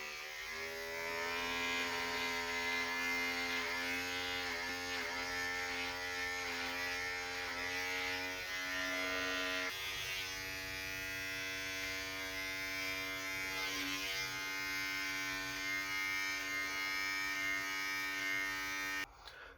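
An electric beard trimmer buzzes steadily and close while tidying the edges and sides of a beard, a loud continuous whine with a brief shift in pitch partway through as it moves over the hair.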